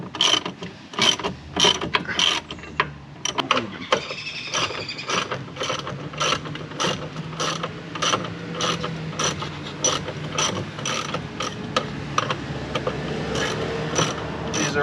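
A wrench ratcheting new lower rear strut mount bolts on a car, with rapid rhythmic clicking that pauses briefly and then resumes in a long steady run of clicks, close up and alone.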